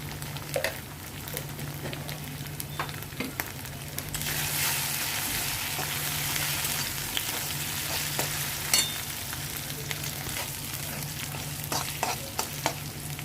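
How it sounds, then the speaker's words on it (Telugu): Ginger paste and turmeric fry in a pan for chicken fry, a steady close sizzle with occasional scraping stirs, growing louder and denser midway, no talk. "అల్లం పేస్ట్ ఫ్రై అయిపోయిందండి"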